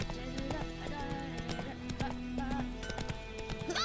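A horse gallops in The Witcher 3 with rhythmic hoof clip-clops and a brief whinny, close and steady over game ambience.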